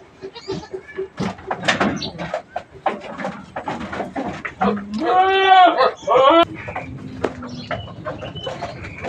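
A goat bleats before being weighed, a loud, wavering cry close by, with people talking throughout and handling noises around it.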